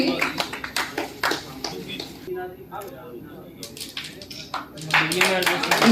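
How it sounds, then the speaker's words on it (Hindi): Applause from an audience at a Movers Association of India award ceremony, with a burst of clapping around an announcer's voice and a louder swell of claps at the end. "एक जोरदार तालियां हो जाए शुभम जी के लिए"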